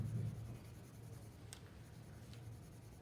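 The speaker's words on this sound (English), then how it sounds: "I'm going to kind of change the position of holding the pencil, so I'm about middle pencil holding it there." Graphite pencil shading across paper on a value worksheet, a soft, close, continuous scratchy rubbing that keeps an even pace, with a faint tap or two partway through.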